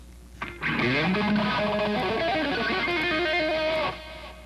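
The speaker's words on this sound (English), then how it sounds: "He sort of string skips and pulls off to open strings." Distorted electric guitar plays a fast run of pull-off notes ringing against open strings, a steady stream of bright notes lasting a few seconds, no talk.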